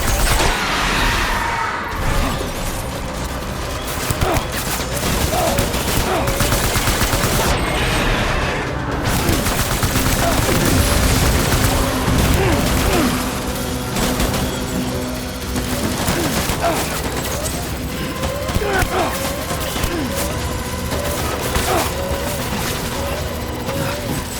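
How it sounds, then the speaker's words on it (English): Gunfire from the video game Death Stranding Director's Cut crackles in dense bursts and booms over a sustained loud battle din, with shouting voices mixed in. "Taking fire! Open fire!"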